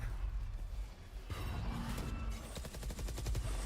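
Stinger and Sheriff fire in a Valorant esports match, rapid bursts of gunshots rattling off in quick succession after a quieter stretch, with a dense automatic volley toward the end, mid-distance and mixed with game effects.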